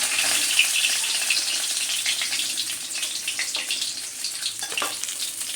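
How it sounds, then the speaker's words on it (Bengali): Shol (snakehead) fish pieces sizzling steadily in hot oil, a dense continuous crackle with scattered sharper pops, close and fairly loud with no voices. "মাছগুলো আমার একটু দু পিঠি খুব ভালো করে ভাজা হয়ে গেছে"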